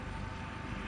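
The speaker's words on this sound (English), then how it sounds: "El helicóptero." A tour helicopter lands in the mountains near Barcelona, its engine and rotor making a steady, continuous roar throughout this brief moment.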